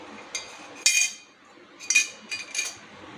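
Several light metallic clinks and taps as a metal puttu steamer tube and its inner disc knock together, close and fairly quiet, in a few separate bursts.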